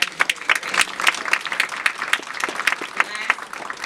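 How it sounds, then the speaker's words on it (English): An audience claps in a lively, uneven burst of individual hand claps, close and fairly loud, with faint voices mixed in under the clapping. "So please give another hand clap for that donation."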